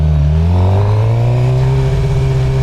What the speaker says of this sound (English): M4 slip-on with the stock exhaust sounded nice and good